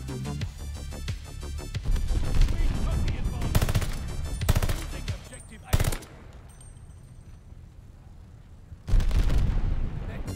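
Automaton rifle fire in COD: Vanguard rattles out in fast, evenly spaced automatic bursts, loud and close, broken by pauses, a sharp blast and quieter stretches of ambient game noise.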